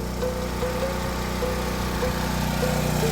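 A Philking PK1700 gasoline generator runs steadily while powering a small air conditioner, its engine droning in an even, continuous hum close by.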